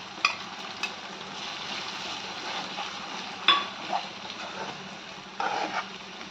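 Tomato-onion masala frying with curd in a pan for egg curry, a steady close sizzle with stirring scrapes and a few sharp utensil clinks.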